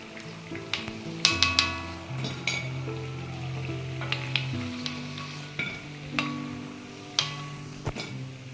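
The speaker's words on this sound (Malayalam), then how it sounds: "നമ്മുടെ വട നന്നായിട്ട് മൂത്തിട്ടുണ്ട്." Prawn vada (chemmeen vada) frying in hot oil, a steady soft sizzle with scattered ticks and light clinks of a utensil against the pan, heard beneath background music.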